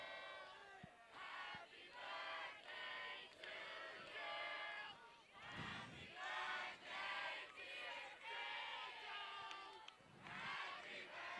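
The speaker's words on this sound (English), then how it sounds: "the 12th man singing happy birthday to him" A high school football crowd of Hilltoppers fans sings happy birthday in the stands, a chorus of many voices rising and falling in sung phrases, heard from a distance across the field.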